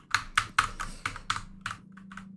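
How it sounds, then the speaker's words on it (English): Mechanical keyboard typing, close and crisp, with about ten sharp clacky keystrokes in an uneven rhythm against a faint steady hum. "So you're gonna hear a lot of my mechanical keyboard."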